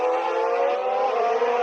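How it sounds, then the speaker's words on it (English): Formula 1 cars, Charles Leclerc's Ferrari and Max Verstappen's car, entering the pits in a 2019 Grand Prix: a steady high engine whine holds for a brief moment. "As into the pits comes Charles Leclerc, and into the pits comes Max Verstappen."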